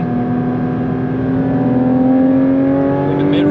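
A loud, steady induction howl from a Porsche 992 GT3 RS engine pulling at full throttle, its tone rising gradually and evenly throughout, close and uninterrupted.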